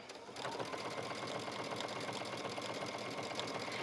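A sewing machine runs steadily and close as it stitches around a fabric pocket on an A-line skirt, starting with a brief quieter moment and then keeping a constant, fairly quiet mechanical whir.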